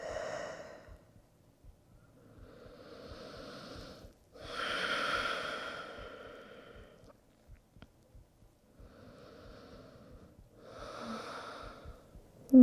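Slow, deep breaths during yoga practice, each long inhale and exhale drawn out over several seconds, close and soft with quiet pauses between them.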